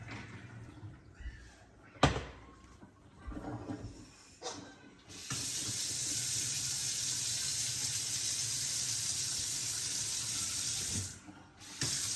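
Hot water from boiled potatoes is poured off through a colander into a sink, a few short splashes and clatters first, then a loud steady gushing stream lasting several seconds.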